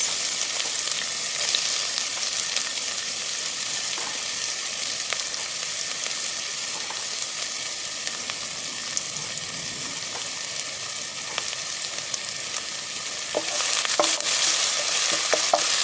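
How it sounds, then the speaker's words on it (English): Onions hitting hot oil in a pan for a noodle dish, a continuous close sizzle with scraping stirs, growing louder near the end. "after the oil is hot enough, I'm putting now first my onions"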